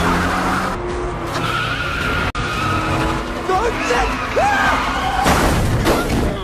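Cars skidding and crashing during a robbers' car chase, loud tire squeals and screeching slides with an impact thud, engines roaring close up.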